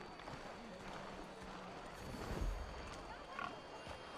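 Faint snorts and grunts from a pig in Assassin's Creed 3 Remastered, with soft thuds and background noise, quiet and somewhat distant.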